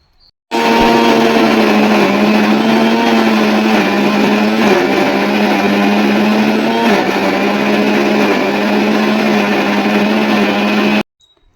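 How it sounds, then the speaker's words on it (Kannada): A mixer grinder grinding spice paste whirs loudly and steadily for about ten seconds, a constant motorized drone that starts and stops abruptly. "ಸೊ ಇವಾಗ ಇದನ್ನು ಮಿಕ್ಸಿಗೆ ಹಾಕೋಬೇಕು"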